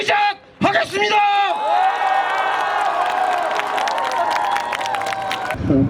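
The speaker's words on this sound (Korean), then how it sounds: "정의당 기호 6번 이정미 후보의 유세를 여러분들의 모든 몸동작과 환호와 박수로 시작하겠습니다" A crowd at an outdoor political campaign rally in Songdo Central Park cheers and whoops loudly with scattered clapping, voices rising together in a sustained roar before cutting off.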